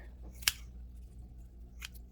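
Scissors snip once, sharp and close, through Aerogarden plant roots, followed by a softer second cut over a low, quiet background hum.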